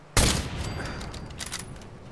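A sudden burst of gunfire from the video game Fallout 4 breaks out after a brief quiet, a sharp loud volley followed by a rattling, decaying tail of shots and echoes.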